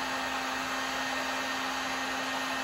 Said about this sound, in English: So I'm going to use the heat gun.